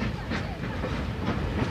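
A special expedition train with freight cars, passenger coaches and a dining car rolling along the Tian Shan railway, a loud steady rumble with rhythmic rail clatter.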